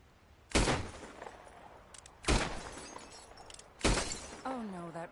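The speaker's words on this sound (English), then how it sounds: "I'll shoot a few more this time." Three loud, sharp gunshots spaced about one and a half seconds apart in Red Dead Redemption 2, each ringing out with a brief echo in an open outdoor setting, with a voice heard briefly at the end.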